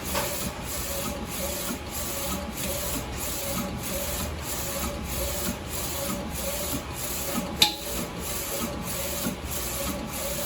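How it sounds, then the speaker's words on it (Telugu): A DTF t-shirt printing machine runs during an installation demo, putting down colour ink. Its print head rubs and whirs steadily back and forth in even, regular passes, with one brief click partway through. "చూస్తున్నారు కదా, ఫస్ట్ కలర్ ప్రింట్ అవుతుంది,"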